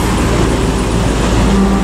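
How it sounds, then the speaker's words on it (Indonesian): A bus, Nopin 31 Alika, pulls out of the Muara Bungo bus terminal, its steady engine rumble loud and close amid continuous roadway noise, with no talking. "ini ada Nopin 31 Alika yang meninggalkan Terminal Muara Bungo"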